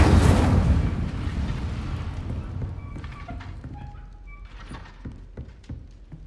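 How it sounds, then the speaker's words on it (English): Incendio fire spell cast in Hogwarts Legacy, a loud whooshing burst of flame at the start that rumbles and crackles down into a lower burning roar, with a few faint chimes and clicks. "Setting things ablaze is certainly cathartic, isn't it? Incendio!"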